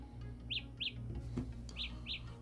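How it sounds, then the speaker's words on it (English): Galaxy Buds Plus earbud sounding its Find My Earbuds alert: four short, high chirps in two pairs, fairly faint over a steady low background hum. "It's making like an annoying little chirp sound."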